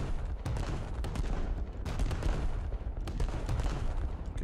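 Heavy naval guns fire salvo after salvo in a warship battle game, sharp booming reports landing in irregular bursts over a constant low rumble of battle noise.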